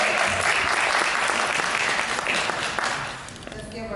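Sustained applause fills a beauty academy graduation ceremony, dense clapping from a large audience that stays loud throughout and eases slightly near the end.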